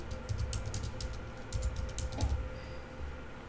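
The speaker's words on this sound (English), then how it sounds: "this page is where you will need to plug in your password" A password is typed on a computer keyboard as a quick burst of close, crisp key clicks in uneven clusters over a faint background hum, with no talking.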